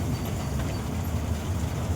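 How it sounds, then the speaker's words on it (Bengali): A toy train ride circling a model of Howrah station, giving a steady low rumble of running wheels and motor, continuous and fairly loud throughout with no speech. "অনেকেই এখানে জানে না যে টয় ট্রেনটা চড়া যায়।"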